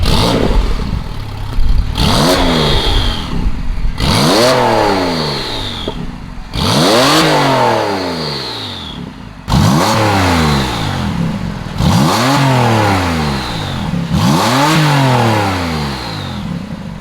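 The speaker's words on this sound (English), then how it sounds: "we just got finished up with the exhaust installation on this Carrera S. It sounds freaking amazing." A Porsche 991.2 Carrera S fitted with a Frequency Intelligent exhaust is revved repeatedly, giving about seven sharp, loud blips that each rise and fall back quickly, with brief pauses between them and no talking.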